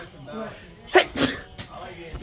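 A young man gives a single sharp sneeze in the middle of a hotel room with a city view, with a second burst of breath right after. Talk and room noise surround it.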